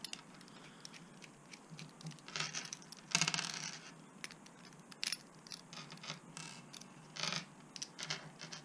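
Small screws come out of the metal fifth wheel on a Tamiya RC truck, with soft scratching, tiny metallic ticks and a few clinks from parts being handled at close range, quiet and irregular.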